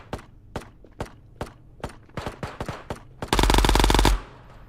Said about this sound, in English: I'm gonna run the Luddy, my favorite SMG.